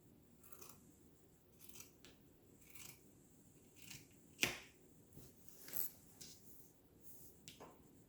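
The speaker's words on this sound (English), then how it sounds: "So we're just gonna cut it" Scissors snip through fabric pieces in a series of short, crisp cuts spread across the stretch, the sharpest at the midpoint, each one close and clear against a quiet background with no talking.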